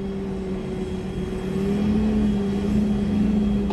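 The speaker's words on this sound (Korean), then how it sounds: "엔진 시동을 미리 걸었어요" Car engine running at a driving test course after being started early, a close, steady idling hum that rises slightly in pitch and loudness midway, alone without talk.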